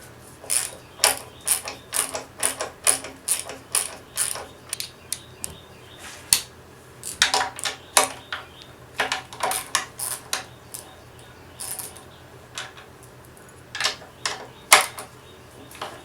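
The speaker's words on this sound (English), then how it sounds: "We'll take these two top bolts off first." A ratchet clicks in quick bursts of rapid pawl ticks, pausing and repeating, while the top bolts come off the cylinder head of a Mercury 35hp outboard, close and clear with occasional metallic clinks.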